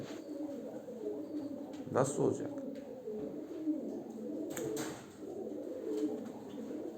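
Ornamental birds coo and call in a cluttered indoor space, with a person speaking briefly over the background chatter of birds.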